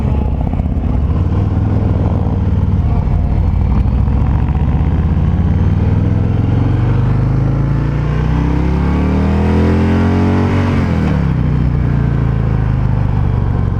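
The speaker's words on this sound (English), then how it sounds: "It's a Harley." A 2019 Harley-Davidson Fat Boy rumbles loudly and continuously while riding, its deep engine note rising steadily as it accelerates, dropping briefly at a shift, then climbing again, with wind noise throughout.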